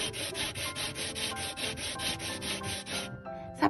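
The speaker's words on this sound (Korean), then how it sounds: "사포질을 마음껏 해주세요." Wood is rubbed back and forth on sandpaper by hand in rapid, even strokes, a close scratchy rasp repeating about four times per second, then stopping abruptly near the end, followed by a brief faint thump.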